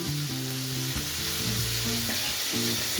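A cinnamon stick and cracked green cardamom hit hot mustard oil in a pan and sizzle loudly and continuously up close, with faint stirring beneath the hiss and no voices.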